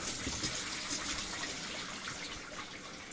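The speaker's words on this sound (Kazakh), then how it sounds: "Әнекем душ өтіп тұр. Ыстық су." Hot water runs from a shower on a farm in winter, a steady hissing gush of water, fairly quiet and continuous with no voices.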